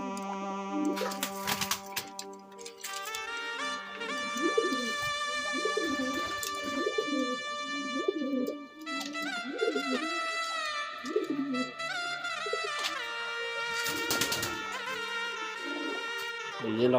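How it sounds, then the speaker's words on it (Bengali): Lakkha fantail pigeons, also called peacock-tail pigeons, coo repeatedly at a pigeon farm, a steady, near run of low warbling calls under sharp tonal chirps and clatter from the loft. "এই যে লক্ষা কবুতর, অনেকে বলে ময়ূরপঙ্খী"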